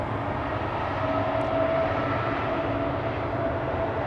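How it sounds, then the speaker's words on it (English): A KLM Embraer 195-E2 airliner departs Amsterdam Schiphol bound for Krakow, its engines a steady, broad, distant roar holding constant throughout with a faint whine on top. "E2 Embraer 195 to Krakow. KLM flight"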